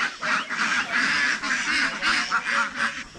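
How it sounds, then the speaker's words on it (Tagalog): A flock of domestic ducks quacks continuously while being herded at early morning, a dense, busy chorus of overlapping honking calls filling the scene with no speech. "Ngayon po ay mag-aakay po tayo ng ating mga itik."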